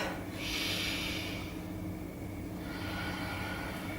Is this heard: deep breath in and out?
yes